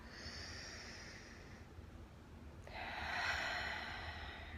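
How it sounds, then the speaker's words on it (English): A single slow, deep breath taken close to the microphone, a soft drawn-in inhale followed by a louder, breathy exhale, with no talking. "let's take a deep breath"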